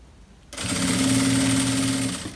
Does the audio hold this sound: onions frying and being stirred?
no